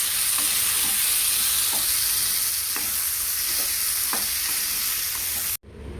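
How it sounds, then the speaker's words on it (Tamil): Onions and tomatoes with garlic sautéing in a pan for prawn bottle gourd curry: a loud continuous sizzle with occasional spatula scrapes, close by, cutting off sharply just before the end. "ஒரு கை அளவு தக்காளி எடுத்து போட்டுருவோம் அதையும் நல்லா கொஞ்சம் வதக்கிக்கலாம்"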